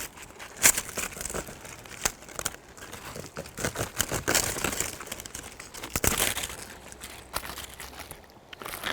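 Dry sunflower head being cut from its stalk in a garden at harvest time: close, continuous crinkling and crunching of brittle plant material with sharp snaps, no talking.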